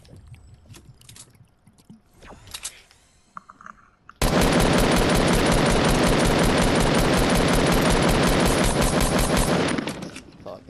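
Gunshots in Fortnite Battle Royale on PS4: after a few quieter scattered shots, a loud, continuous hail of rapid automatic fire runs for about six seconds, then cuts off.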